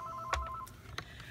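A telephone gives a short electronic ring, a brief tonal chirp followed by a faint second one, heard indoors at low volume with no talking.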